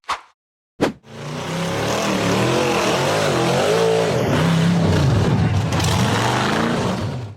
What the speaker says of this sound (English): The gray buggy accelerated hard to climb a rugged rocky hill in the forest.